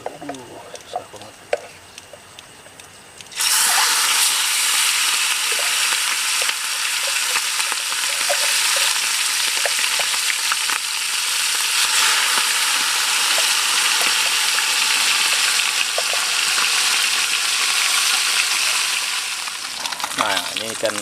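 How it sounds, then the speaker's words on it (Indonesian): Large baung catfish drops into hot oil, setting off a loud, steady crackling sizzle that starts abruptly and runs on continuously after a quieter opening. "Nah teman-teman, kita goreng yang gedenya nih."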